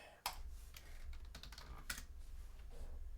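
Rapid typing on a computer keyboard during a Fortnite session, with quick, close clicking keystrokes that come in bursts over a low steady background hum.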